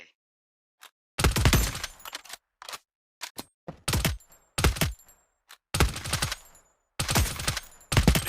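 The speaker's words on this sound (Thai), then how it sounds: "ทีนี้ลองเล็งผ่านศูนย์เล็ง เพื่อยิงศัตรูที่อยู่ไกลออกไป" Bursts of gunfire from a first-person shooter, Core Runners, firing while aiming down sights at distant enemies on a training range: several separate loud volleys, some short and some longer and sustained, with brief silences between them.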